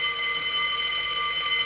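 A fire alarm in a women's prison drama rings steadily and loudly, a continuous electronic tone sustained without pause throughout.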